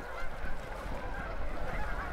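Flock of Canada geese honking at a lake near Enchant, many calls blending into a dense, steady outdoor chorus heard from a distance, with no voices present.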